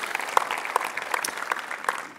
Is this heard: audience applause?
yes